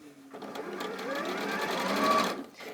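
A sewing machine stitches a seam in one sustained run, its motor whirring up and holding steady, close and fairly loud before stopping.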